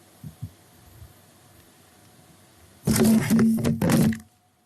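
Pliers clamping and torquing down on a short single-hook fishing rig, a faint tap or two, then a loud burst of squeaky, grinding strain lasting over a second before stopping abruptly.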